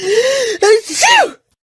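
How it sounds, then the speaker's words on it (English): A single loud, close sneeze follows a sharp gasping intake of breath, then the clip falls silent; it sounds like an acted sneeze in a spoken English lesson scene. "I've been sneezing all day."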